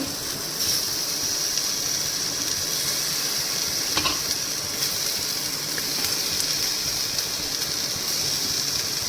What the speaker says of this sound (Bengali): টমেটো আর রসুন আর শুকনো লঙ্কাগুলো ভেজে নেব এই দেখো টমেটোটা দিচ্ছি